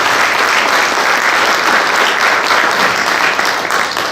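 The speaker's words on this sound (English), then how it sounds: "go ahead and give them a round of applause" A conference audience at a cyber operations event applauds steadily for a presenting sponsor, dense even clapping filling the room at full volume for the whole stretch with no voices over it.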